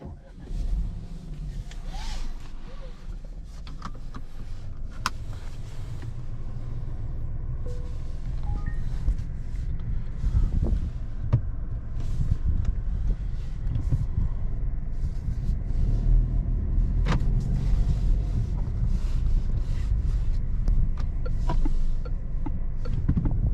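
Inside a 2023 Peugeot 408 PureTech 130 with EAT8 automatic on the move: a low, continuous cabin rumble of engine and road noise that swells slightly as speed builds, with occasional small clicks and no speech.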